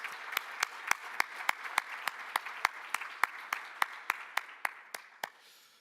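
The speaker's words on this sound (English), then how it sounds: "I ask the audience to join me in giving them a round of applause." A few people at an architecture awards evening clap in a slow, steady rhythm, around twenty crisp, evenly spaced claps over a soft background, fairly faint and distant.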